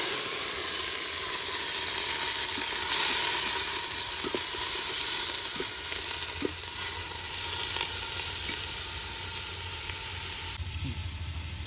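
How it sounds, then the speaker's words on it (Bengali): Onions sizzle steadily in hot oil with whole garam masala and four bay leaves for a chicken gizzard biryani, a continuous soft frying hiss broken by occasional faint clicks of stirring. "এর মধ্যে গোটা গরম মশলা দিয়ে দিচ্ছি, 4টে তেজপাতা, এবার এই পেঁয়াজ দিয়ে দিচ্ছি।"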